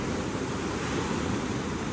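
Steady roar of sea surf washing onto a beach at Cox's Bazar under a cloudy, rainy sky, constant and fairly loud, with some wind buffeting the microphone and no voices.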